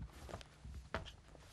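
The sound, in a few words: footsteps in dress shoes, foley for film scene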